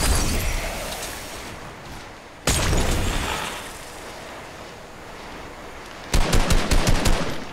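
Rapid bursts of automatic gunfire from the Fortnite video game, loud and dense throughout, with a sharp onset midway and a final volley of distinct shots near the end; no speech.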